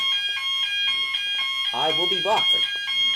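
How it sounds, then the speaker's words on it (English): A fire alarm blares in repeated evenly spaced electronic beeps indoors, loud and steady, while someone speaks briefly over it. "That's the fire alarm, by the way."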